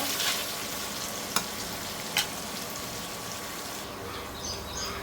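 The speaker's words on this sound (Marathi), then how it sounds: "कांदा आता मस्त परतून घ्यायचा आहे ब्राऊन होईपर्यंत" Onions with curry leaves and red chilli pieces frying in a pan for a cashew curry, a steady close sizzle with a couple of sharp clicks of a spoon, no voices.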